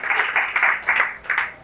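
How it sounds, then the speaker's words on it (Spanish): Brief burst of audience applause at a public science talk in Granada, a few seconds of clapping swelling and fading in pulses, moderately close, with no voices over it. "Un fuerte aplauso para la compañera."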